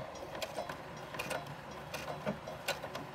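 A domestic sewing machine begins a reinforcing stitch, running backward and then forward again, heard as a quiet mechanical whir with irregular ticking and clicking pulses, close by and with no speech.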